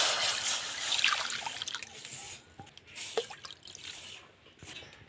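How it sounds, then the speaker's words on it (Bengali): Water is poured into a cooking pan on a lit stove, a steady close splashing pour that tapers into scattered drips and trickles, with no talk. "জল দিয়ে দেবো।"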